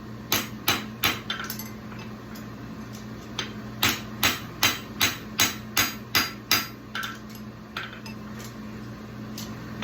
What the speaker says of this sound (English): You can use the heel of your hammer or you can use the side, it doesn't matter